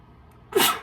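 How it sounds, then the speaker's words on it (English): A single sudden sneeze indoors, a sharp close burst after a brief near-silent pause. "Just sneeze."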